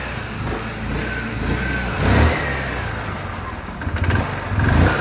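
A GY6 scooter engine idles low and uneven nearby, with occasional brief revs and faint background noise.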